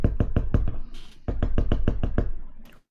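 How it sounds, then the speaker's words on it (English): Repeated sharp taps on a wooden door, like a bird pecking: a quick burst of about seven close knocks, a short pause, then another run of about seven, loud and near with no voices. "It's not a knock. It's almost like a bird pecking"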